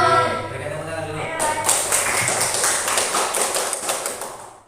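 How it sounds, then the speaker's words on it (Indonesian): Pupils in a primary school classroom clap their hands together in a quick, rhythmic burst of applause that starts abruptly and fills the room after a brief moment of voices. "berikan tepuk tangan dulu"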